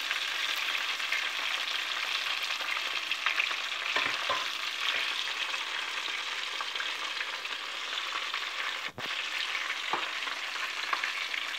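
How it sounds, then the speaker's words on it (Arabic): Pieces of crispy Moroccan-style fried chicken cook in hot oil, a steady, even bubbling sizzle close by, with a couple of brief clunks near the end. "هانتوما كتشوفوا في القلي ديالهم كيفاش كيجيو ها هما راهم محمرين"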